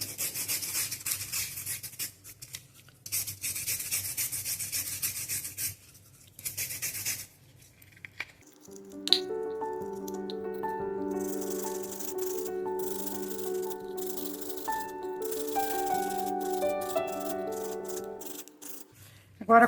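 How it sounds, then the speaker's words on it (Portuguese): Sandpaper rubs in short scratchy strokes for several seconds, followed by a sustained rhythmic grinding with a tonal ring as the edge of a glass jar is sanded round, close by. "Agora, com uma lixa, eu venho lixando e arredondando."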